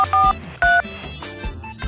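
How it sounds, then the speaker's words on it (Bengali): A phone keypad dials out to call an electrician, with three or four short, loud tone beeps spaced irregularly against a faint background hum. "কালকে না ঠিক করাইলাম, খারাপ মিস্ত্রির ফোন দিই।"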